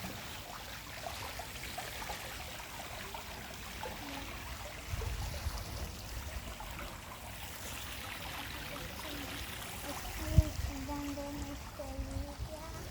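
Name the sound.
small water fountains trickling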